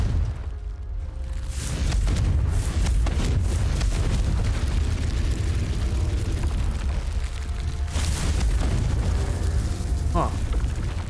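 Confringo fire spell blasts in Hogwarts Legacy, a dense roaring burst of booms and crackling eruptions that fills the whole clip loudly, with a voice talking over it.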